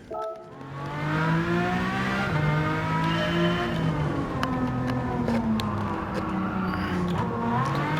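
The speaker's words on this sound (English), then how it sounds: "We are gonna take it full on, full throttle." A race car in Gran Turismo 7 accelerates at full throttle, its engine note climbing steadily through the gears, loud and close, with no talking.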